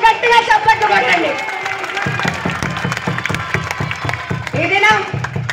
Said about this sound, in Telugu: నన్ను గట్టిగా చప్పట్లు కొట్టండి